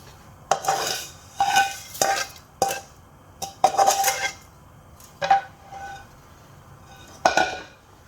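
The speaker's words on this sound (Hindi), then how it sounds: "इसको मिक्स करके तकरीबन 5 से 10 मिनट तक अच्छी तरह पकाएंगे।" A spoon stirs fried vermicelli into thickened milk in a metal pot for sheer khurma, giving irregular clinks and scrapes against the pot with quiet gaps between them.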